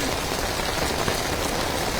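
Heavy monsoon rain pours down in Vadodara, a dense, steady roar of drops hammering surfaces, loud and continuous throughout with no pauses.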